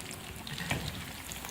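Potato cheese nuggets frying in hot oil, a soft steady sizzle with a brief louder crackle midway, close and alone.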